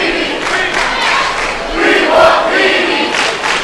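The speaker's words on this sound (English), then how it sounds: "Who's the South Summit crowd calling for?" A high school boys basketball crowd at South Summit in Utah chants for a player, a steady roar of many voices with a swelling peak partway through.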